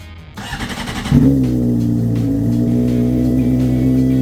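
A Honda CBR600RR sport motorcycle engine idles roughly, then is revved sharply and settles into a loud, steady drone close by.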